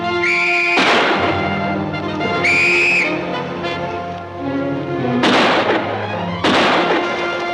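Gunfire from a 1953 Superman TV episode rings out as several loud, booming shots spaced through the scene, with whistling tones, a ricochet-like sweep and dramatic music behind them.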